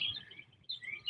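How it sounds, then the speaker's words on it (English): Birds chirp outdoors in short, faint high-pitched calls, two brief bursts within about a second against quiet background. "Oh, the birds do sound good,"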